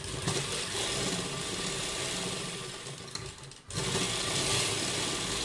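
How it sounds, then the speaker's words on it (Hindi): An electric sewing machine stitches cloth for a girl's top in a steady, close, fast-running whir, stopping briefly for a moment before starting up again at full speed. "रखने के बाद इसके ऊपर 2-3 सिलाइयां लगा देते हैं।"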